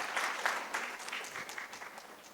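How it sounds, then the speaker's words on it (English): Audience applause for cadets at a maritime talk, a steady patter of many hands clapping at moderate volume, heard alone without talk. "deserves a round of applause"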